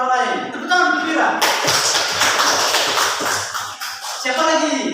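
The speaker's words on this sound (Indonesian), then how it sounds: "Tepuk tangan gembira." Classroom pupils clap together in a lively, cheerful burst lasting a few seconds, close and loud, with talk before and after.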